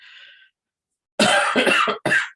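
A brief hoarse rasp of breath, then a silence, then a cluster of three or four harsh, loud coughs in quick succession, close to the listener.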